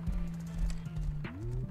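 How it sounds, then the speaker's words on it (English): Galloping horses in the survival game Rust make quick hoof thuds in a clip-clop rhythm over about two seconds, with a tonal hum alongside that shifts pitch near the end. "I hear two horses though."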